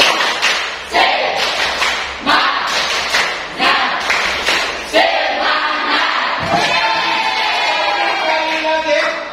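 A group of teachers claps a rhythmic cheer in bursts of sharp claps, with voices shouting a chant between them, loud and close.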